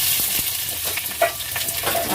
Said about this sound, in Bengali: এখানে তেজপাতা, দালচিনি আর দুটো ছোটো এলাচ দিয়ে পেঁয়াজটা দিয়ে দেবো।